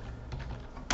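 Close clicking of keys on a computer keyboard, a brief steady patter of typing with a slightly louder keystroke at the end, no voices.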